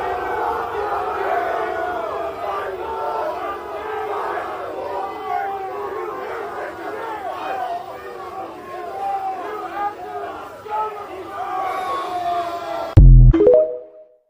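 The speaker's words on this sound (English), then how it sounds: "they're flipping him off, booing him on the way out in the airport" A large crowd of college-age fans booing and shouting at an airport, a dense, loud, sustained roar of jeers and chatter that cuts off abruptly near the end into a short thump.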